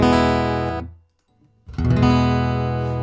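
Acoustic guitar run through a Zoom A1 Four pedal set to a Martin D-28 model. One strummed chord rings out and fades to silence, then a second bright strum follows and sustains. It is close and loud, with no talking.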